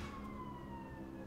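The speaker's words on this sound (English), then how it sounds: "I don't know if you can hear the sirens outside." Emergency vehicle sirens wail outdoors, a faint gliding tone that sweeps slowly downward over a low background rumble, steady throughout with no voices.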